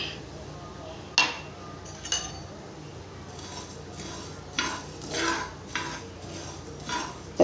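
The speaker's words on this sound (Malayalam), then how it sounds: "നമുക്കിത് ആദ്യം ഇത് കരിഞ്ജീരകം ഇട്ട് വറുക്കാം." Black cumin seeds dry-roast in a pan for a homemade cough remedy while a metal spoon scrapes and clinks against it, giving sporadic knocks over a low steady hiss.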